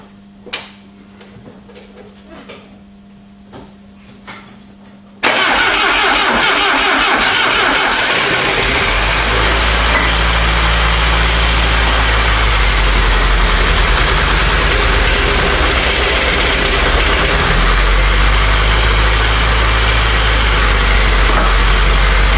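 A Triumph TR7 found in a garage as a barn find fires up after a quiet stretch of clicks, then settles into a loud, steady, rough idle that holds for many seconds.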